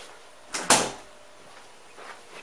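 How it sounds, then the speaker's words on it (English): A room door closes with a single fairly close thump and a short rattle, then quiet room tone follows, with a faint shuffle later. "Close my door."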